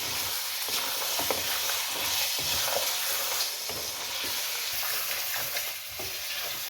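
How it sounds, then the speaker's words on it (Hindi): Peas and sliced potato stir-fried in a pan for aloo matar keema, giving a steady sizzle with repeated scraping strokes of a spoon close by, no voices. "अब इसको मिक्स करें और इसके साथ थोड़ा सा भून लें।"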